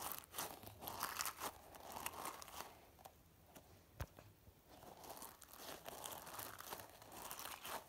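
A crunchy fidget toy is squeezed repeatedly near the microphone, producing soft crinkling, crackling crunches in uneven bursts with a quieter pause midway.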